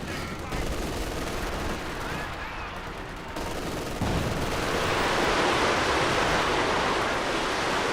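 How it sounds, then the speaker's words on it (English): A double Land Mattress rocket barrage in Company of Heroes 2 builds into a dense, rushing roar of launches and explosions, growing louder in the second half under a dull battlefield wash, with no talking. "Double land mattress barrage running on in."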